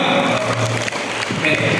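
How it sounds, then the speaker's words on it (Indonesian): Applause breaks out at a teachers' seminar marking National Teachers' Day, a brief burst of clapping from the audience mixed with an amplified voice through a sound system. "Sekali lagi tepuk tangan untuk kita semua."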